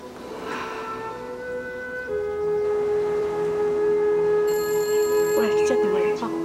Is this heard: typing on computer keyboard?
no